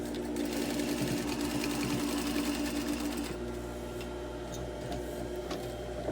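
Sewing machine stitching a fabric hospital-style mask with a half-inch seam allowance, a fast steady mechanical whir running close, then pausing briefly and continuing more quietly, with no talk.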